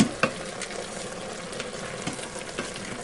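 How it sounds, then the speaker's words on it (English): Peanut butter mixture stirred in a pot, giving soft scraping strokes and a faint sizzle, with a sharper knock near the start and a few quieter clinks spread across the short stretch. "Give it a good stir. Let that peanut butter kind of melt everywhere"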